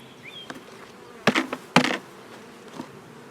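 Honeybees hum in an opened hive with eight frames, a faint buzz beneath sharp wooden knocks and scrapes as the frames are handled.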